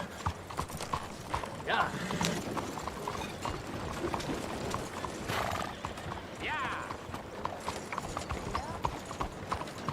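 A horse gallops in the Red Dead Redemption 2 video game, with a rapid, steady clip-clop of hooves and a whinny, while a voice speaks briefly over it.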